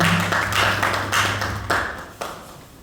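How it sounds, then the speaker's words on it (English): Clapping from an audience welcoming a speaker at an indoor talk, a brief scattered round that starts fairly loud and fades within a few seconds, with a few last isolated claps. "Let's clap for him"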